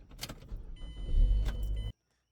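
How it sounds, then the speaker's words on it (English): Car engine starting up, with keys jangling and a brief starter crank before the engine catches and runs with a rising rumble, then cuts off abruptly into silence. "let's go ahead and get the car starting up."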